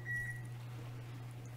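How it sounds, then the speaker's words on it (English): A single short electronic oven beep signals preheating finished at 375 degrees. It sounds once at the start, clear above a steady low kitchen hum that continues afterward. "That beep tells me that the oven is preheated to 375"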